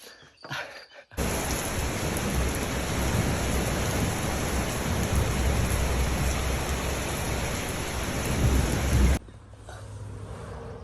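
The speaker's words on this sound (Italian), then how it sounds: "Ah, è passato il temporale." Thunderstorm with heavy rain, a dense steady roar of rainfall with low rumbling thunder, loud for about eight seconds before cutting off to a quieter background.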